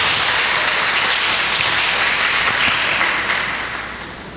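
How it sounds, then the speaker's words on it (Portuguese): A church congregation applauding in a dense, sustained wash of clapping from many hands, steady at first and then tapering off near the end. "vamos aplaudir o Senhor"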